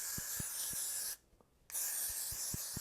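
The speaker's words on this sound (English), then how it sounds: "take some freeze spray and you're going to spray" Freeze spray hisses onto hair in two steady bursts split by a short pause, close and fairly quiet.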